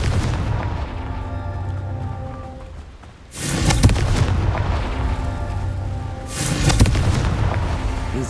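Two loud fiery blasts from the Confringo spell in Hogwarts Legacy burst out over a steady game soundscape, the first around the middle and a second one near the end, each a sharp boom that trails off into crackling rumble.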